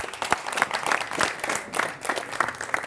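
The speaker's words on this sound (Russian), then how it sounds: "Красавчик, давайте похлопаем, пожалуйста." Audience at a stand-up comedy show applauding a comic, a steady wash of many hands clapping close and full for the whole stretch, with a brief dip midway before the clapping swells again.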